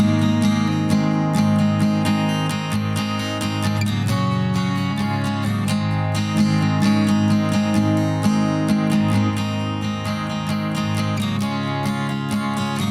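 Acoustic guitar strummed within a full music mix, its low end thick and boomy as if miked too close, chords ringing steadily alongside other instruments.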